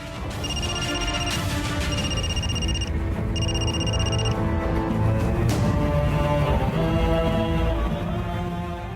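A telephone rings in a repeated pattern of short bursts, three distinct ring groups in the first half, over a loud, steady bed of dramatic background music in a Marathi television serial scene; no one answers.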